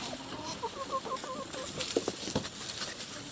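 A broody hen on a homestead giving soft, faint repeated clucks in a quiet setting, with a few slightly louder notes toward the middle.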